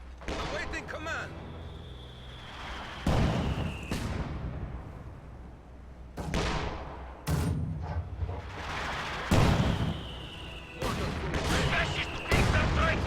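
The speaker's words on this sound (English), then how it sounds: "heavy mortar continues to bombard this area" Heavy mortar shells pound an area in Company of Heroes 2, with repeated loud booming impacts every couple of seconds over rumbling battle noise, while a commentator talks throughout.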